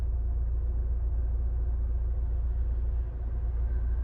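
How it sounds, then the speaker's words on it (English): Car reversing up a one-way road, a steady low engine rumble that stays close and constant throughout with no talk over it. "here comes a car reversing up a one-way road"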